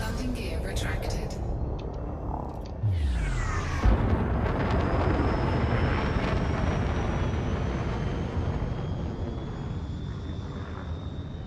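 Spaceship lifting off with its landing gear retracting in Elite: Dangerous: a loud, steady engine roar that swells into a deep rumble partway through, with a rising whine and thrust continuing beneath a speaking voice.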